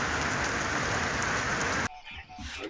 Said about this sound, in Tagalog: nagpatuloy pa rin ang malakas na buhos ng ulan